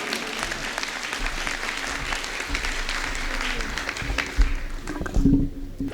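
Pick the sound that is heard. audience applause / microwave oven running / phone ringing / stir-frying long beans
audience applause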